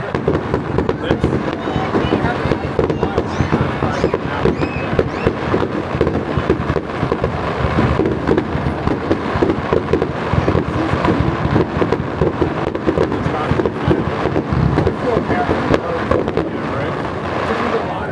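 Fireworks at a New Year's celebration at Tuckerton Seaport burst in a dense, continuous barrage of loud booms and crackles lasting the whole stretch, with voices faintly audible underneath.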